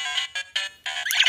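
A Kamen Rider Ex-Aid Mighty Action X Gashat toy plays its electronic activation jingle in bright, tinny bursts from a small speaker, with four short chirpy segments and a sparkling flourish at the end.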